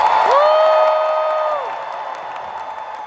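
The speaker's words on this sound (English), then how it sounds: "we're going to have to hear a loud applause" A large crowd at a Disney Parks panel during the D23 Expo 2024 applauds and cheers, a loud whooping roar up front that gradually settles into steady clapping and murmuring.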